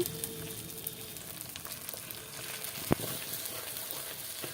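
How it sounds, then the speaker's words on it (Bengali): Spice paste for rohu fish korma fries in a pan with a soft, steady sizzle, fairly faint, and a single sharp clink of a utensil comes near the end. "এই যে দেখুন মশলাটা ভাজা ভাজা হয়ে গেছে"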